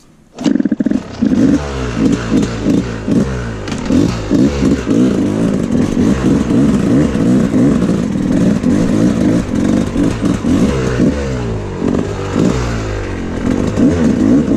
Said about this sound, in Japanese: ちょっとキック蹴ってくれると思いますけど